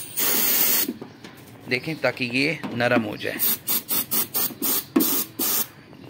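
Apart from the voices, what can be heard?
aerosol spray into Suzuki Mehran wiper pipes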